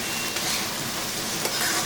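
Potato pieces fry and sizzle in hot oil in a pan for chicken ghugni, a steady close crackle with a few stirring scrapes.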